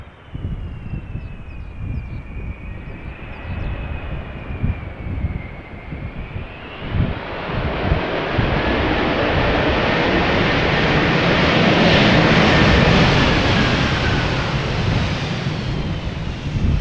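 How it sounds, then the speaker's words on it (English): A Boeing 787-10 Dreamliner jet landing at Schiphol Airport in gusty crosswind: a thin engine whine at first, then a broad roaring rush that builds loud and sustained as the airliner passes near, with wind buffeting the microphone. "a 787-10 Dreamliner arriving from Las Vegas"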